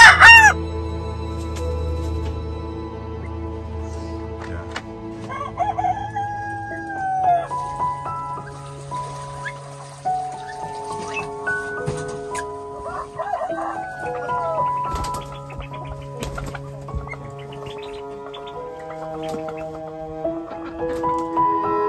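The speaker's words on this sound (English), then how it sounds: "we're gonna talk about the 8 chickens that we have in here" Eight chickens in a coop cluck and squawk nearby while a rooster crows in long drawn-out calls, the birds overlapping continuously and loudly throughout.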